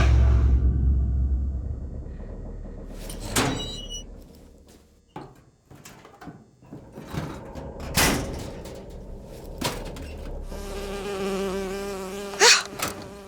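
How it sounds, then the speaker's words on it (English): A bee in the video game BioShock Infinite buzzes on and off among clattering game sound effects, thuds and a sliding-door noise, with a louder buzzing stretch near the end. "Oh, it's a bee. I hate these things."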